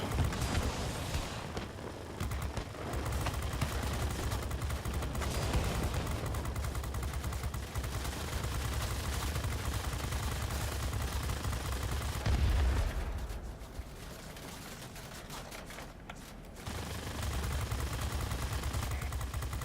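Warplane guns firing in the World of Warplanes game as an F-86A Sabre closes in, dense continuous machine-gun bursts over a roaring engine, loud and sustained with a few short pauses, no talk.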